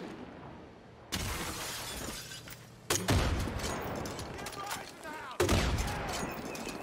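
Heavy LMG fire in Far Cry 5 arrives as three loud, abrupt bursts of rapid, crackling shots, each starting suddenly and ringing on with dense, shattering noise before the next burst cuts in.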